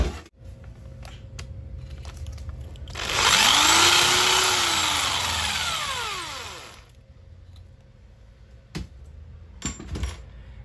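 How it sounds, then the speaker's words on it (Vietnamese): A drill whines through masking tape into a ceramic-tiled wall for about four seconds, its pitch rising then falling, followed by a few clicks and handling knocks. "khi khoan lỗ lên tường"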